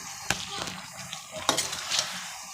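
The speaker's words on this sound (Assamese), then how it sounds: "দি পেলাই মই যথেষ্ট সময় ভাজিম।" Spiced fish curry ingredients with tomato and turmeric sizzle in a pan as a spatula scrapes and stirs in a few quick strokes. The frying is soft and close, with faint background noise.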